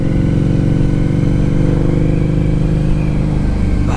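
A 2003 Harley-Davidson V-Rod motorcycle engine runs close by with a loud, steady, throbbing low rumble that holds even throughout, with no clear rise in revs.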